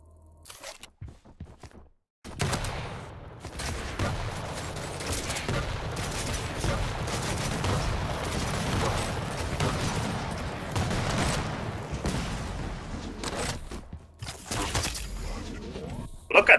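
Rocket launcher blasts and railgun shots in the arena shooter Quake Champions, a busy run of loud repeated weapon fire and impacts after a quiet start, with a faint voice in places.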